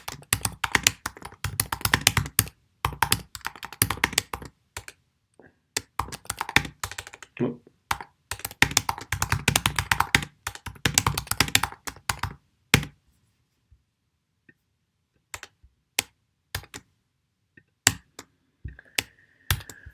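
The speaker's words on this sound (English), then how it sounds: "I don't mean to type during a video." Bursts of rapid clicking keystrokes on a computer keyboard, close and fairly loud, in two long runs separated by pauses, then sparse isolated taps toward the end.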